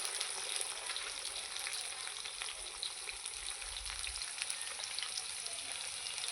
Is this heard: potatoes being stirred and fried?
yes